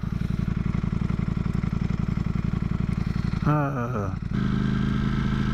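A Ducati motorcycle engine idles with a steady, throbbing low rumble, close and loud, briefly dipping and shifting pitch before settling back into its even beat.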